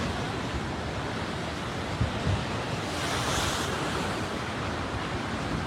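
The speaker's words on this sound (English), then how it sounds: "Now it came back in again. Surged back in." Tsunami surge waves from the Tonga volcano eruption rush in at Pleasure Point, Santa Cruz, a steady loud roar of surf with wind buffeting the microphone, swelling briefly midway.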